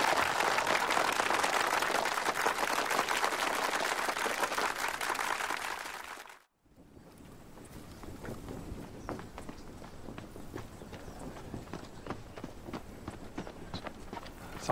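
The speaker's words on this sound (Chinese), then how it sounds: "鼓掌。" Soldiers applaud at a ceremony appointing platoon leaders in a wartime drama: loud, dense clapping fills about six seconds, then breaks off into quieter, scattered sounds.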